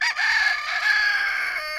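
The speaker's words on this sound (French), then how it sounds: "Les coqs sont très bruyants" A rooster on a Swiss regional egg-and-poultry farm crows loudly and close by, one sustained, drawn-out call that carries through nearly two seconds with a strained, tonal ring.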